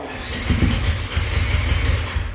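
A four-cylinder motorcycle engine starts and revs with a loud, steady, rumbling idle that swells briefly, heard close and alone with no talking.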